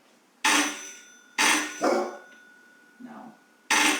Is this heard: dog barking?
yes